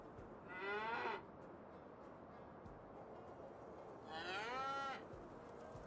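Two separate cow moos on a Farming Simulator 25 farm, each under a second, spaced about three seconds apart over a steady low background hum, moderately distant.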